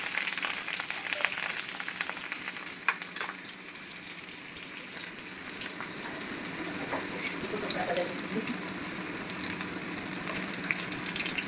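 Mustard seeds and cumin sizzle in hot oil, a dense continuous frying hiss with faint crackles and pops, close and steady throughout.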